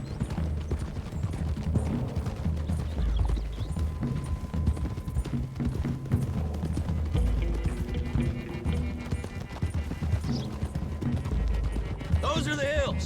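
Horse hooves clip-clopping in Red Dead Redemption 2, several riders moving along a road together, a steady trotting patter under continuous dialogue between characters, with a horse's whinny near the end.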